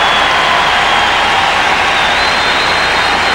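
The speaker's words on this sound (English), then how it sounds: "How often do you see John McEnroe ask for a little help in the crowd and receive it" Tennis crowd applauding John McEnroe during a match against Mecir, a loud, dense, continuous wash of clapping with no talking over it.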